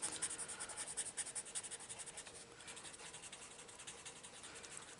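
Coloured pencil lightly shading on textured paper in an adult colouring book, a soft rapid rhythmic scratching close by, faint and steady throughout with no talk.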